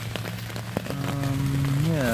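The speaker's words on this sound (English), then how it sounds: "No, it's not a super heavy rain" Rain falling on a French F1 military surplus pup tent, a light steady patter on the fabric heard from inside, with a person talking over it.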